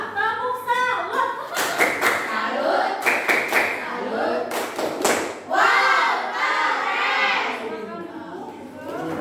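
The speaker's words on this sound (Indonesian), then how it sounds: "Kita tepuk salut untuk kelompok 2. Tepuk salut." Classroom of children doing the tepuk salut clapping chant for a group, with rhythmic bursts of claps and thumps mixed with chanting voices, lively and close.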